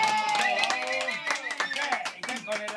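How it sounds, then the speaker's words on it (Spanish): Several people clapping indoors at a group meal, quick uneven hand claps close by for a few seconds, mixed with cheering voices and musical background sounds. "Un aplauso."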